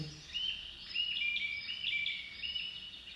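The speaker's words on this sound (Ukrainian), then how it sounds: "А чуєте ви зараз спів пташок?" A recording of birdsong plays, with high chirps and warbled trills repeating steadily over a quiet background and no talk.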